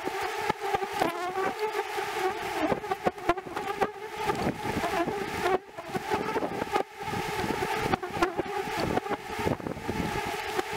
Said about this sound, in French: les abeilles sont assez énervées en ce moment